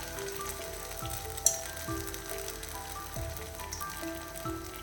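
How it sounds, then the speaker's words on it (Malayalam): Ground curry paste for a chicken curry sautéing in a pan, a soft steady sizzle with faint spatters and a few gentle stirring strokes recurring at intervals. "ഇത് നല്ല രീതിയിലൊന്ന് വഴറ്റിയെടുക്കണം"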